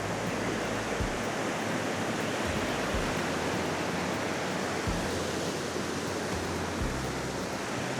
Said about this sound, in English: I could sit and watch this waterfall for hours, even though it's only a little small one, this little cascade.